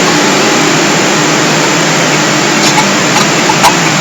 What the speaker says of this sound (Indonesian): Inilah untuk rekaman pertama, yaitu suara knalpot.